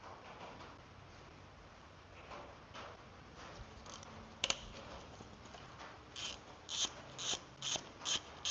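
A ratchet with a 12 socket clicks on a Nissan 350z fuel rail, a quiet stretch of faint work noise followed by a run of sharp, evenly spaced ratcheting clicks close by.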